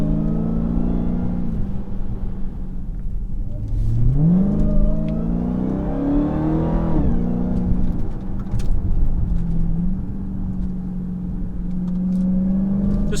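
2020 Dodge Charger SRT Hellcat Widebody heard from inside under hard acceleration, its supercharged engine roaring and rising in pitch through several upshifts, loud and steady for about thirteen seconds, with no one speaking.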